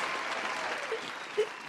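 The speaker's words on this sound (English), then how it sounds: "Round of applause" A room gives a round of applause during a podcast recording: a brief, even patter of clapping with a slight swell near the end.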